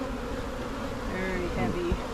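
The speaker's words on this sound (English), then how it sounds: "You want to be really careful, Weston, not to smash bees" Honeybees around an opened beehive frame heavy with brood, giving a steady dense buzz close by with a few louder individual bees passing near, no talking.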